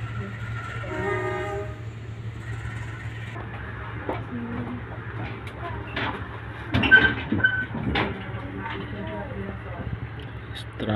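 Rumble of a passenger train on a rail trip near Kertosono station, with a horn sounding early and steady carriage noise throughout, while people talk nearby.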